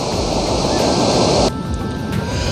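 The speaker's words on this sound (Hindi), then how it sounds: "छत्तीसगढ़ का सबसे प्रमुख जलप्रपात है चित्रकूट, इंद्रावती नदी पर स्थित चित्रकूट जलप्रपात।" Chitrakoot waterfall on the Indravati river in Chhattisgarh roars as a loud, steady broadband rush of falling water, close and continuous, with a slight drop in level halfway through.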